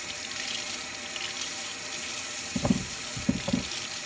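Tap water runs steadily from a faucet while beets are rinsed in a sink, a continuous close splashing hiss with a few soft knocks and clunks near the end.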